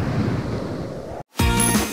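Strong, steady wind roars and buffets the microphone in Ushuaia, Tierra del Fuego, broken by a brief moment of near silence before the gusting resumes just as loudly.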